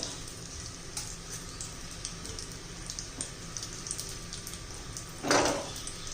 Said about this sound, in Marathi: हे बघा आपली फोडणी तयार झालेली आहे